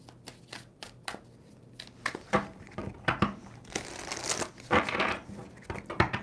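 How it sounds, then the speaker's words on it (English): A deck of tarot cards being shuffled by hand during a reading, with a series of sharp, crisp riffling and slapping bursts that come in uneven clusters, close and moderately loud, with no talking. "2 more shuffles."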